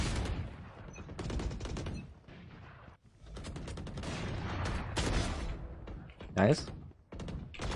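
Repeated bursts of gunfire from counter-strafing in a deathmatch video game, with several rapid volleys of shots spread across the clip and someone talking over them.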